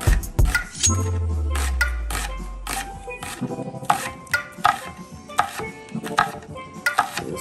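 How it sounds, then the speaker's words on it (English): A knife chops onions on a cutting board in quick, close, repeated strikes. A low boomy rumble swells beneath the first few seconds. "chop up my onions here"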